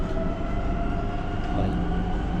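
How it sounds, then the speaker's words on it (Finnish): Steady, loud rumble of a Rome metro train in motion, a continuous low roar with a faint whine, heard from inside the carriage. "nyt ollaan päästy roomalaiseen metroon jo"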